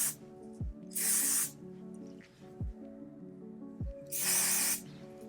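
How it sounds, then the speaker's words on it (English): Two close, bright hisses of Sebastian Shaper Plus hair spray along a hairline, about three seconds apart. Soft clicks and handling noise come between them. "Now I want to take my Sebastian Shaper Plus spray and do another little spray along the hairline,"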